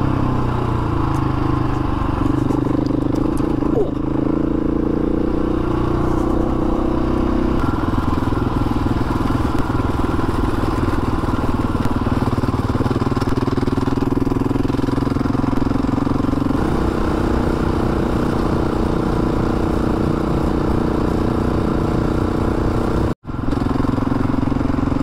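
A motorcycle ridden on Dargo High Plains Road in the Victorian high country: a loud, continuous engine drone with wind rush, the pitch shifting as it slows and picks up again, heard close from the rider's position.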